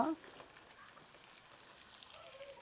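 Steady crackling sizzle of fish frying in hot oil, a continuous bubbling hiss at moderate volume with no talking.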